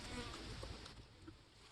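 Bees buzz faintly around a swarm box set under dense trees, a soft continuous drone with a few closer passes, and no talking.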